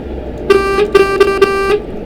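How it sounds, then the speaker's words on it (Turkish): A DAF XF truck horn in Euro Truck Simulator 2 blares in four short loud honks over a steady engine hum, with no talk. "kornası falan bayağı iyi ya"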